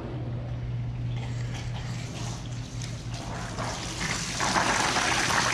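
A hot tub pump circulates water through the spa plumbing, giving a steady rushing, gurgling flow with a constant low motor hum underneath, loud and continuous throughout.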